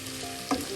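Chicken with powdered spices sautéing in a pan for pepper chicken, a soft steady sizzle with a brief louder scrape of stirring midway through the short moment.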